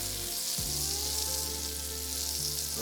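Sliced mushrooms sautéing in a hot pan for a vegetarian cheese omelette, a continuous near sizzle that holds steady for a few seconds, with a faint clink at the start and no talk.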